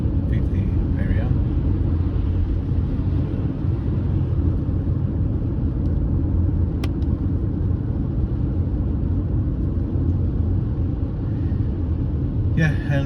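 A 2015 BMW 520D drives along small roads with a steady, loud low rumble of road and engine noise throughout, while a voice talks over it.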